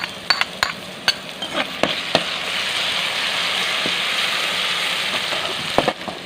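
Green chillies and garlic hit hot oil with golden onions in a pan, giving a steady close sizzle with a few sharp clicks of a spoon stirring against the pan.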